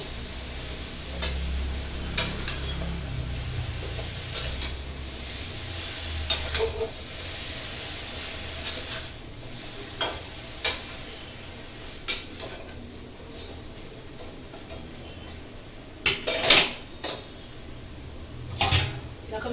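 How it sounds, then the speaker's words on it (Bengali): Salted pumpkin greens stirred in a metal pot in a home kitchen: repeated sharp clinks of a utensil against the pot at irregular intervals over a steady low sizzle and hiss, with a busier cluster of scrapes near the end. "আমি নাড়াচাড়া করবো"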